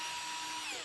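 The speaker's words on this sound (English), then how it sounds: "with my electric hand driver. I'm going to do it. Turn it on there." An electric hand driver, used on the screws of a Bissell PowerForce Compact vacuum, whines at high pitch with a steady motor tone and slight pitch shifts, close and continuous for under a second.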